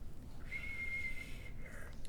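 A thin, breathy whistle wavers on one pitch for under a second, then a fainter second attempt follows, quiet over low background noise.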